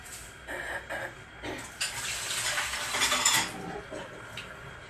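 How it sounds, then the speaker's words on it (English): A ceramic teapot is lifted out and handled in a home kitchen, giving light clinks, knocks and scrapes of crockery at close range over a few seconds, with no talking. "Okay, so I'm going to get my teapot."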